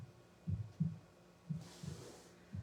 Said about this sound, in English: you may note the sound of the heartbeat in the background.